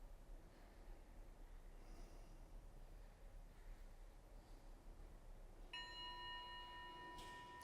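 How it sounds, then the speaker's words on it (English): A timer bell rings to mark the end of a stretch in a stretching routine, a clear metallic chime that rings out and sustains near the end, over quiet breathing and room hiss. "there's the second bell"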